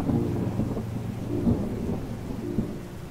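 Rain and thunder in The Red Strings Club video game: low rolling thunder rumbles repeatedly under a steady hiss of rainfall, heard quietly and without any voices.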